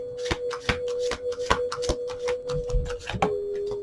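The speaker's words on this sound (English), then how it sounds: "I'll give it one more shuffle just to give it the good old-fashioned try" A deck of tarot cards being shuffled by hand, a series of sharp, regular riffling snaps roughly every half second, close and crisp with no talking.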